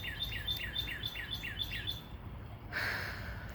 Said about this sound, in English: Oh, just two little birds over here.